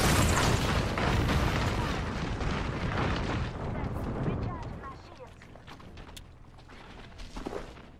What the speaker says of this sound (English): My airstrike?